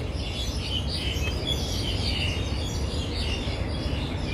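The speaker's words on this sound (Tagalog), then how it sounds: "maingay dito ang mga ibon sa punong kahoy na yan na malaki" Many birds chirp and tweet in high, busy bursts from a big tree in Tamar Park, Admiralty, Hong Kong, over a steady outdoor rumble, a lively chorus continuing throughout.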